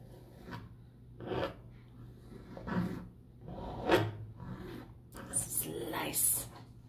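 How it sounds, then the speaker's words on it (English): A palette knife slices, scrapes and stabs black paint on a canvas in a series of separate soft rasping strokes, close and fairly quiet, with a few sharper scrapes near the end. "Slice, scrape, stab some black using the end."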